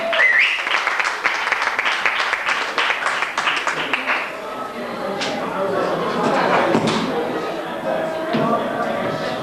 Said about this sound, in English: give the man a big round of applause